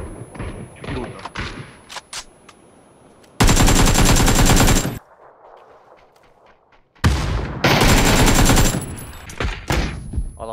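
Machine gun fire in a video game: two long, loud, sustained bursts of rapid automatic shots, each lasting about one and a half seconds, between quieter stretches of game noise with a voice now and then.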